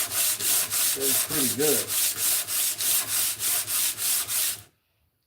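Sandpaper rubbed back and forth on wood in a workshop, a regular rhythm of about a dozen loud, close rasping strokes with a brief voice underneath, ending in sudden silence.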